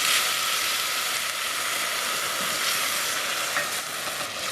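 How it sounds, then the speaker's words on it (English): Risotto rice is stirred in a pan after dry white wine goes in, giving a loud, continuous hiss and sizzle with scraping stir strokes throughout and no talking. "And just keep stirring and cook until absorbed."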